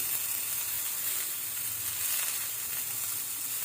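Capsicum and tomato sizzle in a hot pan during sandwich filling prep, a steady, bright, continuous frying hiss with no talk over it.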